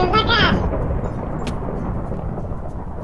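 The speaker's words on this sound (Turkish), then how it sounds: "bir daha gök gürültüsü yaparsan cidden seni tor olup öldürürüm" Thunder in a Minecraft game sounds as a loud low rumble that starts with a sharp crack and then rolls on steadily, gradually fading.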